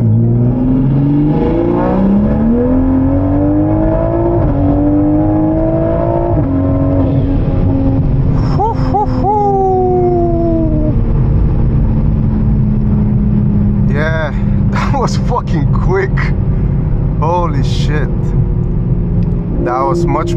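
A Toyota Supra with an aftermarket turbo running about 27-28 psi accelerates hard through a full pull, its engine rising loud and close with gear changes and turbo whoosh, while people talk excitedly over it.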